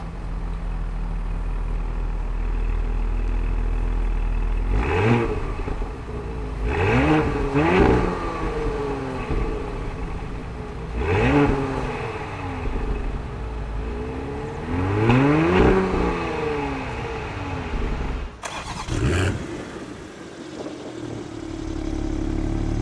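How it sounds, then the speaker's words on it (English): A 2022 BMW X3 M40i and an Audi SQ5, both with sport-tuned exhausts, rev repeatedly in loud, close blips, each engine swelling and falling back to a steady idle rumble, with a final sharp burst near the end. "these two come with sport-tuned exhaust systems, so let's go ahead and hear a little sample of that"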